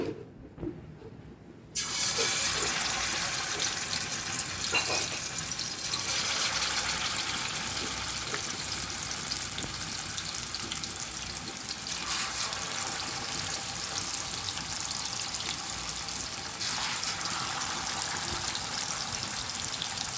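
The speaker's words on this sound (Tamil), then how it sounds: "நான் இப்போ மீனை எண்ணெயில் தான் பொரிச்சு எடுக்க போகிறேன்" Fish frying in oil for a fish gravy sizzles up after a short quiet start, then holds a steady, close crackling hiss with occasional surges and no talking.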